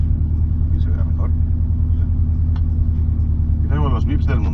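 A cold Subaru Impreza engine idles with a loud, steady low rumble close by, while someone talks over it in bursts.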